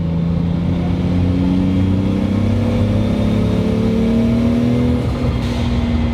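The engine of a modified 520 hp Mk3 Toyota Supra with a 1JZ swap pulls hard after a downshift, a loud steady rising drone heard from inside the car with no talking.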